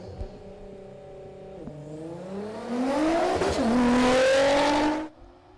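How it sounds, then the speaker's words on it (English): A Nissan R35 Skyline GT-R accelerates hard down a Sydney drag strip, its engine note climbing through a gear change and swelling loud before cutting off abruptly as it rolls out of the throttle. "the R35 Skyline is definitely a quick machine out of the box"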